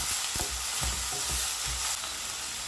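Ground meat sizzles steadily in a frying pan while a utensil scrapes and stirs it in a few uneven strokes, the hiss loud and close with no voices.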